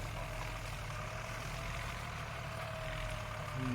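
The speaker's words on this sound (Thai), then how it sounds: "ดังไม่เหมือนรถไถเลยฮะมันดังเหมือนรถหกล้อ เครื่องนิ่มมาก" A 105-horsepower six-cylinder 7840 tractor's diesel engine idles steadily and smoothly throughout, a low continuous rumble with no revving.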